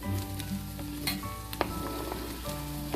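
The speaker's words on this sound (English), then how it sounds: "Okay, olive oil and butter. Start sauteing this." Onions sautéing in olive oil and butter give a steady close sizzle and crackle, with a few stirring scrapes and utensil knocks over a constant kitchen hum.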